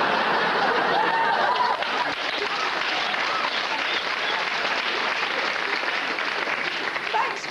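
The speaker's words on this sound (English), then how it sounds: "Thanks for clapping." Comedy club audience clapping at a stand-up set, a steady dense wash of applause that holds through the whole stretch, with a few chuckles and light voices mixed in.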